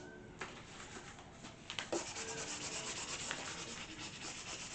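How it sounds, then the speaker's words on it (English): A scraper drags across the wood of a front porch sign as varnish is spread, making a steady close scraping and rubbing sound in continuous strokes with a few sharper taps. "So let me get my scraper and start varnishing it."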